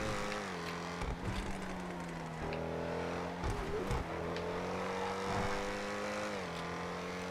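Race car engine of a Rapid GTE in GTA FiveM multi-class racing, droning loud and steady with rising and falling revs through gear changes, alone without talk.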